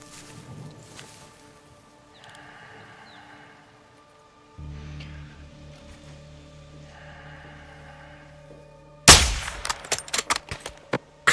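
A single loud sniper rifle shot rings out in Modern Warfare 2 (2022), the Recon by Fire mission on Realism difficulty, after a quiet stretch of ambient hum, followed by a rapid series of sharp clattering impacts and echoing cracks.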